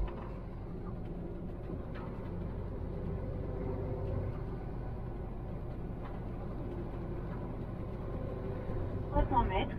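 A truck runs empty along an Alsace road with a low, steady engine and road rumble. The rumble stays quiet in the background beneath someone talking throughout.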